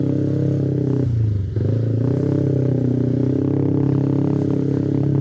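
Motorcycle ride captured from a helmet-mounted action camera: a steady, loud engine drone with strong wind rumble, a brief dip in revs around one second, then a constant, even hum with no voices.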